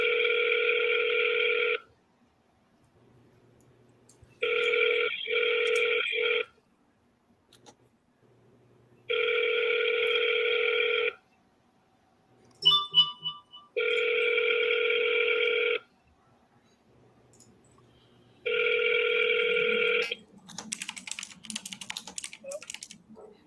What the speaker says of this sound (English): let me make this quick phone call.